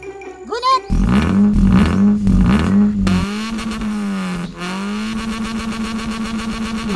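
A 1000cc motorcycle engine is revved hard in close, loud bursts, then settles into a throbbing idle, with a voice heard briefly before it.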